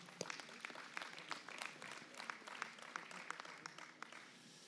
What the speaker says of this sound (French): On peut s'applaudir.